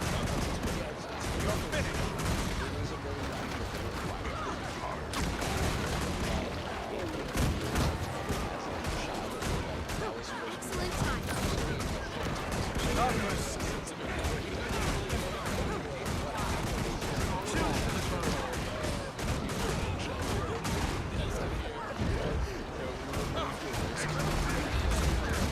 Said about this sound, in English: I can basically shoot forever.